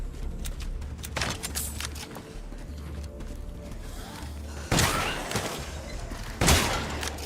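Gunfire in the video game Resident Evil Village, with two loud, broad blasts standing out over a busy, muffled in-game background, each followed by a short ringing tail.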